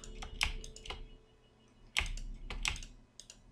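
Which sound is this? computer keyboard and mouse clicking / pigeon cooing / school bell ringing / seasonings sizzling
computer keyboard and mouse clicking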